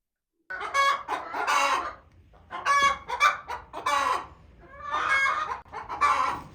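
Hens cluck in a village coop, the laying birds letting out loud, repeated bursts of clucking in quick runs with short pauses between, close by and with no voices over them.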